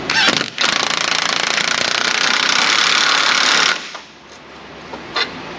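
An impact wrench runs on a bolt during front-end repair on a Ford Mustang GT with the 4.6 engine, a loud rapid hammering burst of about three seconds after a brief stutter, then a short tap and quiet workshop sounds.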